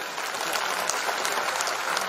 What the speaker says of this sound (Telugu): దీన్ని బట్టి అందరూ ఒకసారి క్లాప్స్ కొడతారా?